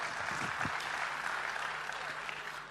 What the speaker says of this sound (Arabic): فتصفيقات حاره الحكام